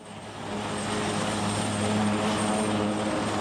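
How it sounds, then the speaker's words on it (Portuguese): An H-34 Super Puma armored helicopter of the Brazilian Air Force drones steadily overhead, a loud continuous engine and rotor roar with a faint tonal hum that swells slightly and holds, with no voices. "H-34 Super Puma. Esse é o modelo do primeiro helicóptero blindado da Força Aérea Brasileira."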